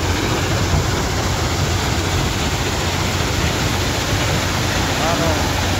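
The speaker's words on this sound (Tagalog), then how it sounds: "vibrating screen Y3 dito malapit sa mga finished product na bumabagsak" Steady, dense industrial roar from a vibrating screen at a processing plant, next to conveyors and falling finished product, filling the whole clip at constant loudness with no pauses.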